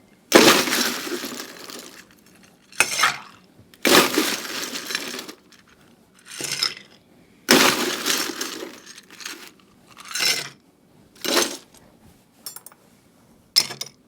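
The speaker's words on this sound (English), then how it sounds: "So once I get the maple syrup in, both of these get iced." Ice rattles and clinks in glassware while a whisky-based New Brunswick cocktail is iced and stirred, loud close bursts of clattering spaced a few seconds apart with short quiet gaps between.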